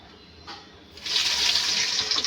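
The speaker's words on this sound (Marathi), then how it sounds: "आता मी तेलामध्ये फ्राय करत आहे कटलेस" Paneer cheese cutlets drop into hot oil, and after a brief soft clatter a loud, bright sizzle bursts up and keeps hissing steadily, close and with no voices.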